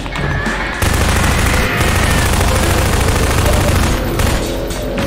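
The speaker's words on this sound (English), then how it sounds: "Is this like my real first shootout?" Loud, dense gunfire in a video game shootout, sustained rapid shots and bursts running almost without pause for several seconds after a brief quieter opening.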